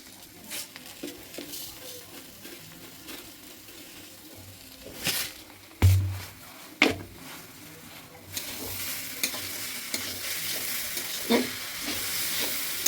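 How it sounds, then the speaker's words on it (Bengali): Grated carrots being stirred in ghee in a pan for gajar ka halwa: a steady soft frying sizzle with scraping stir strokes and a few sharper knocks of the spoon, continuing for several seconds. "এবার ঘি দিয়ে আবার ফের আমি নাড়তে শুরু করব গাজরটাকে"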